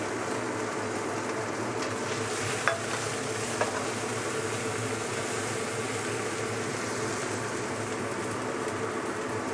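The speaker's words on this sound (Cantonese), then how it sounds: "咁我而家咧就稍為燒一燒鑊啦，跟住然之後將呢個蒜頭啊、辣椒擺晒落去炒下佢先" Garlic and chili stir-fry in a hot wok with a steady, dense sizzle and a couple of faint clinks of a utensil, continuous and close without any talking.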